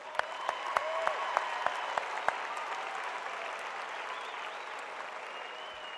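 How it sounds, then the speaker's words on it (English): A high school graduation audience applauds steadily in a large hall, a dense wash of clapping with a few sharper individual claps standing out near the start, continuing without talk. "Let's give them a round of applause."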